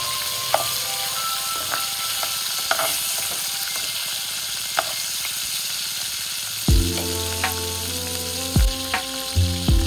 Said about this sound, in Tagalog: nilalagay ko na yung bawang at sibuyas. Pero, papabrownin ko muna saglit yung konti